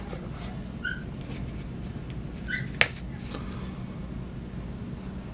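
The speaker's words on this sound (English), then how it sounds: "I don't know why my dogs are barking like that" Dogs yip and whimper a few times in the background, faint and intermittent, over a steady low room hum.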